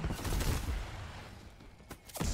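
Repeated M79 grenade launcher fire and blasts in Black Ops Cold War Zombies form a dense, loud, booming barrage, with two sharper bangs near the end.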